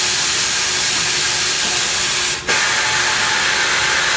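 A pneumatic bead breaker on a tire changer, worked by a foot pedal against a wheel rim, gives a steady loud hiss of compressed air throughout, broken by one brief gap near the middle before the hiss resumes.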